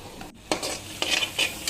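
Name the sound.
onion and crushed cumin paste frying in a pan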